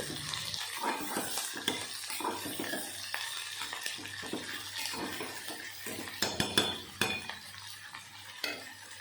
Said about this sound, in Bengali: এখন ভালো করে পেঁয়াজ নাড়িয়ে চাড়িয়ে মিশিয়ে নেব